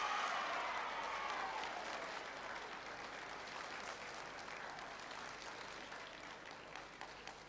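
A football crowd at a vote announcement lets out a sustained roar of cheering and applause, loud at the start and slowly fading into a steady, dense wash of noise with no speech over it.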